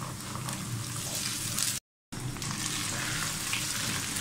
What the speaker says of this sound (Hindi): लहसुन भी अच्छा फ्राई हो गया हुआ है